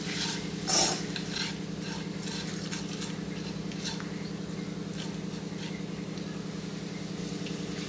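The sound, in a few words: roasting puliyogare powder in a pan on low flame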